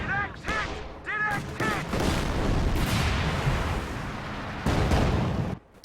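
Artillery pounding an emplacement in the wartime strategy game Company of Heroes 2, a dense roll of booms and rumbling blasts, with brief intervals of voiced chatter from the game early on, ending in a sudden drop.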